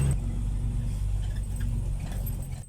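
A ten-wheel truck with a ten-cylinder engine rumbles past on a narrow road, a loud, steady low drone that holds for the whole stretch and eases slightly at the end.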